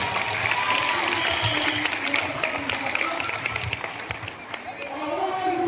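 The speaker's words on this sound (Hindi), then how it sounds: "जोरदार ताली बजाएं।" An audience at a health workers' gathering gives sustained applause, a thick wash of clapping mixed with crowd chatter and voices, tapering slightly near the end.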